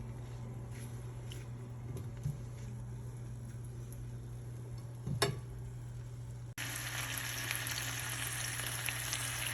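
Salmon fillets fry face down in a non-stick pan, a steady close sizzle and crackle that surges brighter and louder partway through, with occasional sharp pops.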